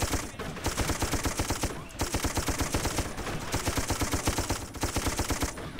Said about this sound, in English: I'm shooting at a broken tree stump thinking it was a German.